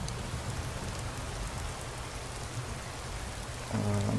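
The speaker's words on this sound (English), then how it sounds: "So I'm pretty sure this is EMB rain, which is turned on here." Steady, dense rainfall from an EMB rain mod in Skyrim SE hisses evenly and close throughout, with a brief louder tonal game sound entering at the very end; no voices.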